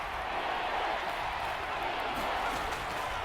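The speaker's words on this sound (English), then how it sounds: "The crowd here in the Dome making things difficult." Crowd noise at a domed stadium during a New York Giants versus New Orleans Saints game in the Madden 22 video game, a steady loud roar of fans holding level throughout, with commentary voices mixed in.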